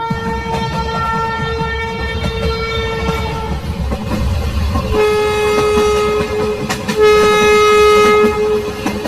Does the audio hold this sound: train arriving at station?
yes